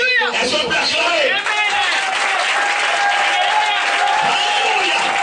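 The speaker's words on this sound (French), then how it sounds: "Est-ce qu'on peut acclamer?" A church congregation breaks into loud, sustained applause and cheering, a dense wall of clapping with whoops and voices rising throughout, close and continuous.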